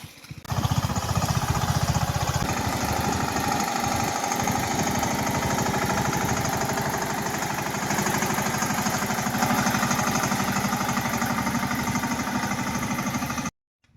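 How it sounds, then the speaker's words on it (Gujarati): A mini tractor running between rows in a mango orchard during cleanup, its engine chugging steadily and loudly up close for the whole stretch before cutting off abruptly near the end, with no voices. "આ મિની ટ્રેક્ટર ઓલી લાઈનમાં ચાલુ છે"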